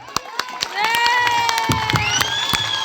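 An audience cheers and shouts for children performing a Tamil play, with high excited voices and scattered claps over a busy, loud crowd.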